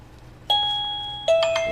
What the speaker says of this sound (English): if somebody walks up and they want to ring your doorbell,